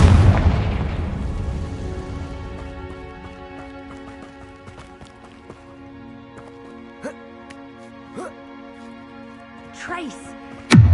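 Confringo explosion spell cast in Hogwarts Legacy: a loud booming burst at the start decaying into a ringing tail, followed by several sharper pops and cracks, with a louder blast right at the end and a speaking voice mixed in.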